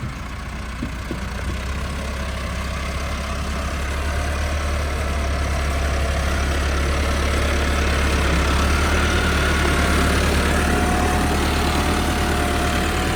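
A 375 tractor's diesel engine runs steadily nearby with a low, even rumble that grows slightly louder partway through.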